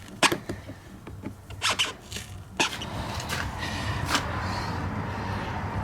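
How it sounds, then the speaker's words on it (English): Cutting out the liner inside a Ford Transit van, a few sharp rasping cuts and tearing scrapes early on, then steady low rumbling noise, close by with no talk. "Now, just cut this liner out."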